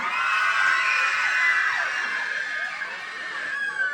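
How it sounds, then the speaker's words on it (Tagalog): A beauty pageant audience cheers, screams and whoops loudly in a sustained swell of shouting voices that fades slightly toward the end. "Wala po bang mas malakas na hiyawan dyan?"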